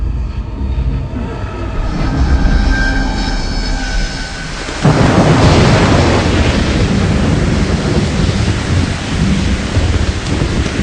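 Heavy rain pours steadily, then swells into a louder dense roar partway through, with rumbling underneath.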